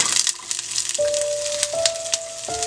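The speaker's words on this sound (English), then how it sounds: "We will fry this onion until it's little brown." Roughly chopped onions fry in a little hot olive oil, a steady close sizzle and crackle with no talking, joined by a faint tonal hum.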